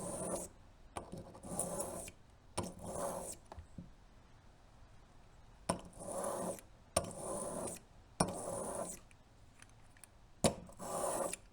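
Serrated Magnus broadhead drawn across a sharpening stone in repeated short rasping strokes, each a gritty scrape with brief pauses between passes, close and moderately quiet.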